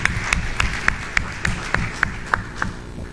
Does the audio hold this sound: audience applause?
yes